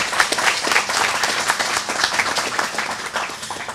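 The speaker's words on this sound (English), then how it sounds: "give everyone a round of applause for your contributions" An audience at a St. Kitts and Nevis independence celebration scholarship event claps in a sustained, even round of applause, dense and moderately loud throughout.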